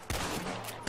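Rapid gunfire from the Red Dead Redemption video game forms a dense, close burst of overlapping shots within a single second.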